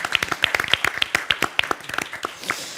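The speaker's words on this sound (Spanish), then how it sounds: "Un aplauso para él." Clapping at a lawyers' congress session, a few distinct hand claps standing out over a thin spread of applause, short and moderately close.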